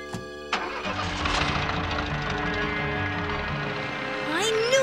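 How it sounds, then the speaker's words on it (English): A cartoon engine cranks and sputters as it tries to turn over, a sharp start then a steady mechanical rumble that rises into a whining rev near the end. "Thought for sure I heard this mechanical mistake for a motor trying to turn over"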